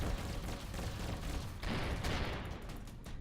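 Spaceship turrets in Avorion blaze away in a dense, continuous barrage of overlapping shots, loud and unbroken throughout a space battle.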